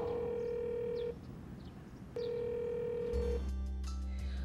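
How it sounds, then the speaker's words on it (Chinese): A phone call rings out unanswered, with two long tonal ringback beeps separated by a pause, followed by a different electronic tone at the end. "子云怎么没接电话"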